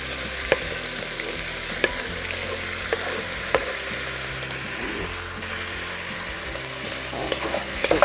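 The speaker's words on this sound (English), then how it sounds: "Hear that sizzle?" Pieces of pork sizzle and fry steadily in a hot pan, a continuous crackling hiss with a few sharp pops and the clink of a utensil stirring the meat.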